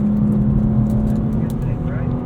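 A 2026 BMW M2 CS with its S58 engine, driven on a track: a loud, steady engine drone heard from inside the cabin, holding a constant pitch with no big revving swings.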